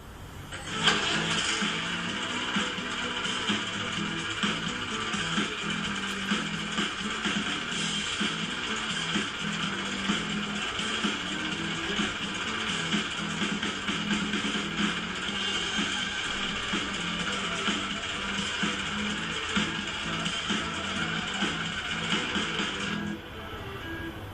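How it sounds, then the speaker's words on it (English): Tractor engine running steadily for about twenty-three seconds, a loud continuous mechanical drone with rhythmic clattering and chugging throughout, then cutting off near the end. "shall we drive a tractor now?"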